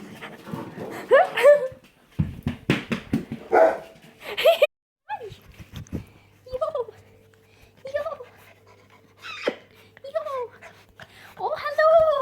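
Young puppies panting with a few soft whimpers and yips, close by and intermittent, while someone talks to them in a gentle voice throughout.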